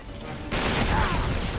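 Burst of video game gunfire from Uncharted 3: Drake's Deception, a dense sustained volley that kicks in abruptly and stays loud to the end, following a quieter stretch.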